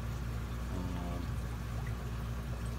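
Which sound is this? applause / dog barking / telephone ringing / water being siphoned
water being siphoned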